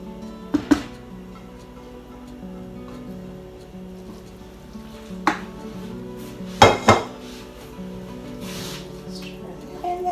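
Spoon stirring broccoli, rice and cheese casserole ingredients in a pot, a few sharp metallic clinks and scrapes spaced apart over a low steady hum, close by.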